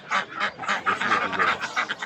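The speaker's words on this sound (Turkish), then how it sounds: "Pekin ördeği." Pekin ducks at a poultry market quack in a dense, overlapping flock, the raspy calls steady and close throughout with no break.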